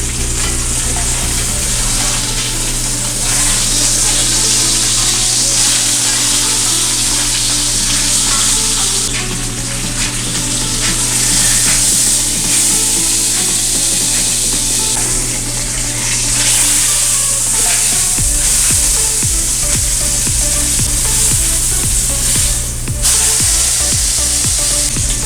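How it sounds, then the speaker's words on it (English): Brisket searing in hot vegetable oil in a pan gives a loud, steady sizzle and crackle that runs close up for the whole stretch, with no voices over it. "we got some vegetable oil nice and hot in the pan. I'm just gonna take our brisket and set it on in there. Get a nice little sear."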